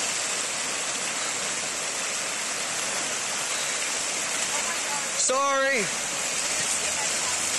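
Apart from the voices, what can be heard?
water surging down street from broken water main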